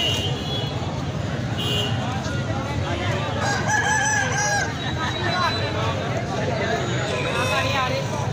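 Aseel roosters crowing at a busy Sunday chicken market in Lahore, with several loud crows rising over steady crowd chatter and people talking throughout.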